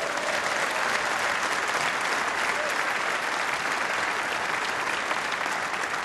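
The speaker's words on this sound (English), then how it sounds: "let's have a round of applause for Carl." A crowd at the UK Championship snooker event gives a round of applause for a ten-year-old boy doing a walk-on, dense sustained clapping filling the arena, loud and even for several seconds.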